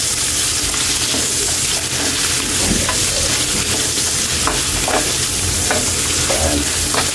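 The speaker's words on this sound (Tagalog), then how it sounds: "para ilagay na natin yung beef natin" Beef for bistek tagalog fries loudly in a pan, a dense, constant sizzle up close with bursts of crackling and occasional stirring noises throughout.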